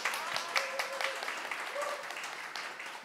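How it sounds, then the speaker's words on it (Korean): An audience at a community network presentation applauds a speaker, a soft, steady patter of many hands with a few faint voices mixed in. "마음껏 박수 쳐주셔도 됩니다."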